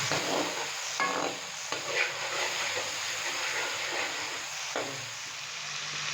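A steady sizzle of ginger, garlic and green chili paste frying in hot oil, with occasional stirring scrapes from a utensil, close and continuous, with no talking.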